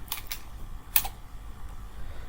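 Several quick keystrokes on a computer keyboard while writing C code, a short cluster of clicks at the start and one sharper tap a moment later, over quiet room hum.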